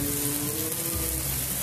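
Vegetables with a little bacon frying in a pan for a macaroni veg pizza, giving a steady, close sizzle with a soft crackle and a low hum under it that runs without a break.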